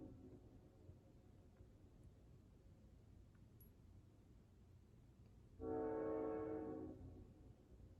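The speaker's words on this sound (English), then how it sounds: "I guess the train's here." A distant train sounds one long, loud horn blast of about a second and a half over a quiet low hum.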